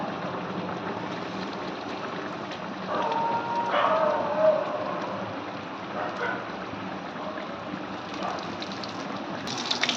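Asafoetida and dried red chili sizzle in hot oil as a tempering for a Bengali yogurt potato curry, a steady close hiss that swells briefly around the middle before settling.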